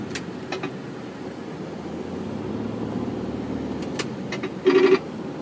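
A Pepsi delivery truck rolls past on a road in Saudi Arabia, a moderate steady traffic rumble with a few faint clicks and a short horn-like beep near the end.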